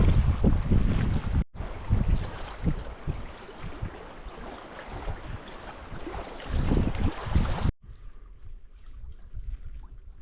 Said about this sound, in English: The winds and the waves were just crazy today out on Crooked